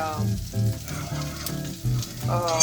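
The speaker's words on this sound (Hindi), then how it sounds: "so now it's nicely saute और अच्छी से खुशबू आ रही है मटन से, अच्छे से सॉटे हो गया" Mutton pieces sautéing in a pan for Bukhari rice give a steady close sizzle with soft stirring scrapes, running continuously through the short stretch.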